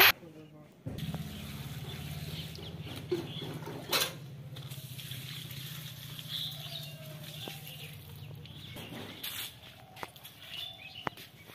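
Garden plants being watered in a home setting, a steady low stream of water running for several seconds at close range, with a brief clatter and faint background sounds, quiet overall.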